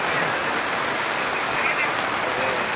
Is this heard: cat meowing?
no